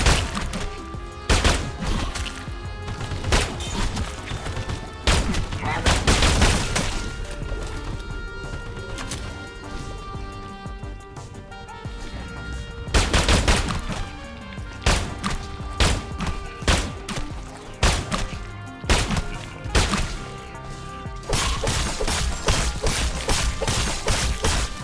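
Gunfire in the shooter game SULFUR comes in repeated bursts of sharp shots and thuds, loud and close, with pauses between volleys and game sounds underneath, no speech.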